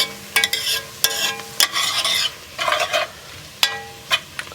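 Onions, garlic and chipotle chili powder cook in a pan, giving a close sizzle broken by several sharp stirring scrapes and clatters of a utensil against the pan.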